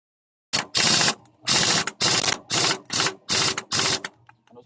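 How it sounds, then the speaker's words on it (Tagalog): An air impact gun tightens a nut on the engine of a Kawasaki Bajaj CT 100 motorcycle during assembly, firing seven loud, close rattling bursts in quick succession with short gaps between them. "Tapos higpitan natin gamit ang ating air gun."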